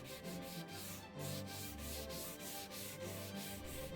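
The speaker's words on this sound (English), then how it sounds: "I got out my sanding foam and I sanded that smooth." Steady, rhythmic sanding strokes with a sanding foam over primer on a dresser, a soft abrasive rubbing repeated back and forth at close range with no talking.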